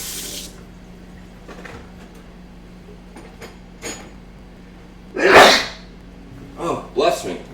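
A single loud sneeze bursts out close by while someone washes up at a kitchen sink during cooking, followed by a couple of smaller clatters and splashes over faint background hum.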